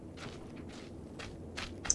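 Footsteps in PUBG, five evenly spaced quiet steps close by over a low game ambience, with no talking.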